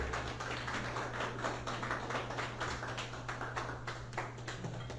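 A standing church congregation applauds during a service: a dense, steady patter of many hands clapping at moderate distance for several seconds over a low constant hum, with no one speaking.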